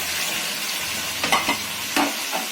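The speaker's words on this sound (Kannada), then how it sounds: "ಆಯಿಲಲ್ಲಿ ನೀಟಾಗಿ 10 ಮಿನಿಟ್ಸ್ ಫ್ರೈ ಮಾಡ್ಕೊಬೇಕು" Brinjal and tomato frying in oil for sambar give a steady, soft sizzle, broken by a few brief stirring scrapes near the end. No voices are heard.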